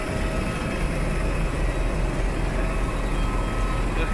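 An airport bus carries passengers across the apron to an Airbus A320 parked at a remote stand. Its engine gives a steady, close, unbroken drone with road rumble and no talk.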